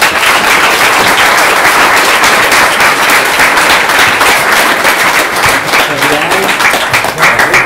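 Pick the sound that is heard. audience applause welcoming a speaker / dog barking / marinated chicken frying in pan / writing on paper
audience applause welcoming a speaker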